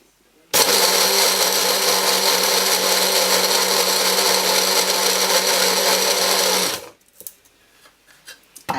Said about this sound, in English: So bear with me again while we set the blitzer off.